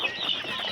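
Two-month-old dual-purpose chickens cluck in short, busy bursts while pecking at super Napier grass, the calls close and fairly quiet.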